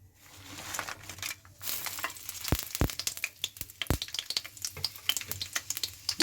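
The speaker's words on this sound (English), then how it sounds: "Now slowly we'll stir them into the oil." Herbs stirred and fried in oil in a wok over a low flame, with a steady crackling sizzle and sharp scraping strokes of the spoon at irregular intervals, close and moderately loud.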